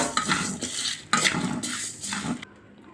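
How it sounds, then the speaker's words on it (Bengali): A spoon clatters and scrapes against a karahi as garam masala and other whole spices are stirred and dry-fried for haleem, a few busy metallic strokes in quick succession, close and moderately loud, then stopping. "এ পর্যায়ে আমরা বাকি মশলাগুলো দিয়ে দিতেছি কড়াইতে।"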